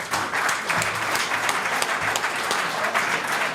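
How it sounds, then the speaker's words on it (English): An audience in a studio show setting breaks into steady applause, a dense wash of clapping hands that holds at an even level for several seconds, with faint voices underneath. "A little applause for Tim, please."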